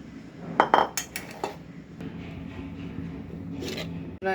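A metal pan is set down in a kitchen while making caramel pudding, giving a few clanking, clinking knocks near the start, then scraping and handling noises over a steady background.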